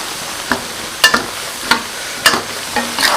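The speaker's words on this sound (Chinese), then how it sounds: "放入麻椒、花椒，开小火慢慢炒就行了" Chili powder with Sichuan peppercorns stir-fried over low heat: a soft, steady sizzle broken by several sharp scraping strokes of a spatula against the wok, close and alone.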